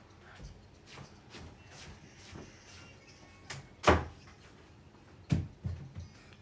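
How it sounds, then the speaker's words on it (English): Interior house doors are shut one after another, heard as a series of soft knocks and thuds with a louder bump in the middle and another near the end, with faint shuffling between them. "Now, shut the doors too."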